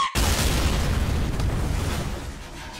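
A character explodes in a Mario video game: a sudden loud booming burst that starts sharply and then rumbles and fades over a couple of seconds, with no voices.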